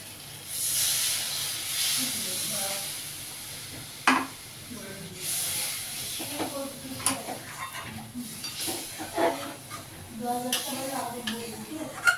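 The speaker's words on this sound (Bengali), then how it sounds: "এবারে মশলাটা আমার কষানো হয়ে গেছে আমি জল দিয়ে দিচ্ছি" Water poured into hot fried spice paste for an egg curry, a loud hissing sizzle that gradually calms to bubbling, with utensil clinks and someone talking over it.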